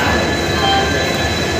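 A train at a railway station gives a loud, steady rumble with a thin metallic wheel squeal running through it, heard up close for a brief moment without any speech.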